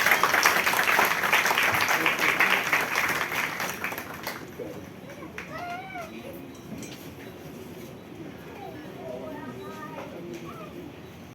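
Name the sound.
applause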